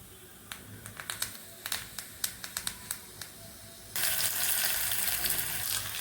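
Mustard seeds dropped into hot sesame oil pop in sharp scattered crackles, then the pan bursts into a loud, steady sizzle.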